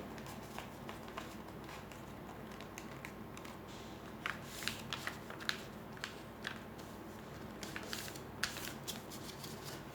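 Paper being folded into a paper airplane, with soft crinkles and sharp creasing rustles that come in scattered bursts over a steady low background hum, close and fairly quiet.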